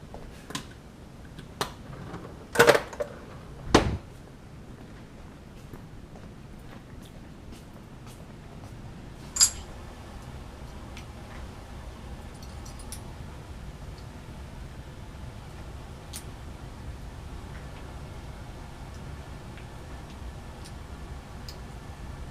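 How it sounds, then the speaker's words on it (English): Metal lab clamp being put back on a stand after a condenser is removed, a couple of sharp clicks and clanks near the start, then a quieter knock, over low steady background hiss. "Put the clamp back."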